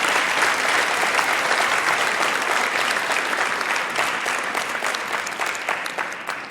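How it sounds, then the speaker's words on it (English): An audience applauds psychiatrists at a 2016 mental health panel, dense sustained clapping from a large crowd that tapers gradually toward the end. "Let's give them a wonderful round of applause."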